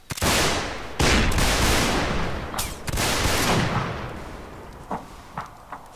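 Musket volleys from an infantry line in a Napoleonic-style line-battle video game: two loud ragged crashes of massed fire a second or so apart, then a third fainter volley, trailing into scattered distant single shots.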